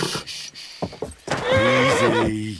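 A horse in the video game Kingdom Come Deliverance 2 gives a loud, close whinny after a few hoof clops and thuds, with no talk.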